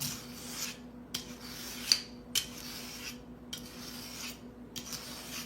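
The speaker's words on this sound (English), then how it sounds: "I've just got a sharpener, and what you do is you pull it like this real good" A kitchen knife is drawn through a handheld sharpener, giving about five gritty, rasping strokes with short pauses between them, close and fairly quiet.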